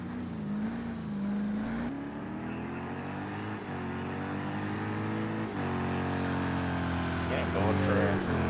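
GT race cars roar through engine notes in Project CARS 2 at Laguna Seca, including an onboard Chevrolet Corvette, a sustained loud engine drone with rising and falling pitch as gears shift, steady and close throughout.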